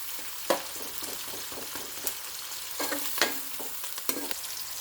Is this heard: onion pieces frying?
yes